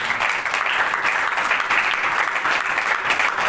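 Congregation applauding during a church worship service, a steady dense clapping that fills the room, loud and continuous throughout with no voices over it.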